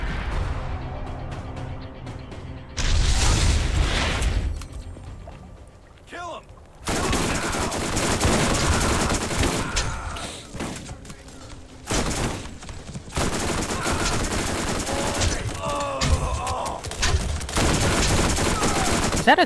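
Turret gunfire in the video game Borderlands: loud, dense bursts of automatic shots rattle through the whole stretch in several waves, with brief lulls between volleys and a voice talking now and then.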